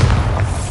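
A Bombarda explosion spell hits in Hogwarts Legacy, a short, loud, deep thump with a heavy booming body.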